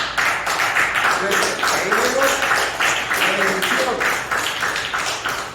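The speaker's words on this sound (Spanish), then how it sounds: "Denle un aplauso al Señor." A church congregation applauds the Lord during a Spanish-language sermon, with steady dense clapping lasting several seconds while a voice talks over it.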